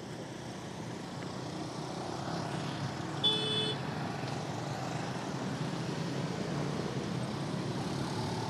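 Road traffic at the Simpang Gadog junction in Ciawi, Bogor, West Java, a continuous low hum of passing vehicles with a brief high tone partway through.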